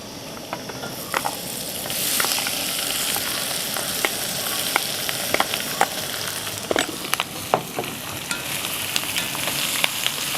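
Ivy gourd and curry leaves sizzle and crackle in a hot pan, a steady frying hiss broken by frequent small pops and scraping stir sounds, close and fairly loud with no talking.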